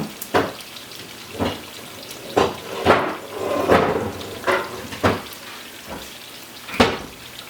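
Sofrito sizzling in a small frying pan on a stovetop, with a steady fry and periodic clattering bursts from stirring or handling roughly every second, fairly close and moderately quiet.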